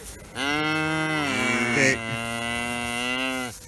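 A calf moos in one long, loud, drawn-out call that swells midway and holds for about three seconds, close to the listener, with a brief spoken word slipped in.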